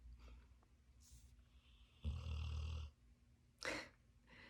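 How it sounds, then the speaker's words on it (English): A female dog snores right beside a person in a quiet room, two rough snoring breaths about a second and a half apart, close and moderately loud, with faint snuffles between. "Star, my dog is right next to me here and she snores"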